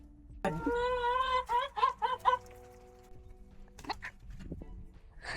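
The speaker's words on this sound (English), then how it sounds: "our chickens right now, kind of loud" Loud clucking and squawking from chickens nearby, rising in short bursts before fading into quieter rustling and scattered noises.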